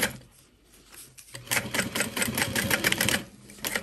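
A sewing machine runs in a fast, steady mechanical chatter as it bastes rainbow webbing onto a backpack, starting after a quiet pause and continuing close and loud with no talk.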